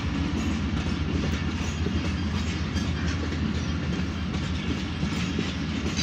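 Allama Iqbal Express passenger train arriving at Drigh Road station in Karachi, a loud continuous rumble with rhythmic clickety-clack of wheels over rail joints, close and steady throughout.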